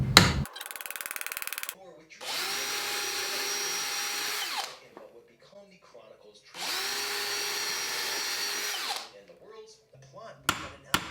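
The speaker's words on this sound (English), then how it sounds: "Pre-drill, I just don't want them to split" A power drill pre-drills holes in cedar for a birdhouse, two sustained close whirring runs of roughly two seconds each, separated by quieter handling sounds, with a brief burst of other noise at the start.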